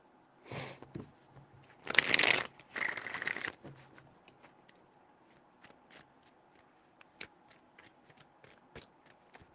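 A deck of tarot cards is shuffled close by in several quick riffling bursts early on, followed by quieter scattered taps and card handling sounds against a quiet room.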